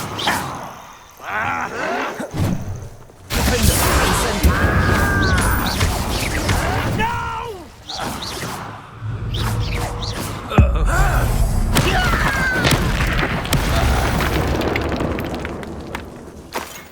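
Blasting-spell explosions and combat sounds from Hogwarts Legacy on PS5, loud crashes and booms over a dense roaring game soundtrack, with voices talking intermittently.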